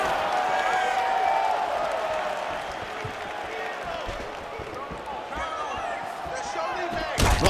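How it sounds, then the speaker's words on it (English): A crowd in the UFC 5 fighting video game murmurs and roars in a steady wash, with sharp thuds of landed strikes and bursts of cheering. A commentator talks over it the whole time. "the crowd continues to react with every passing land"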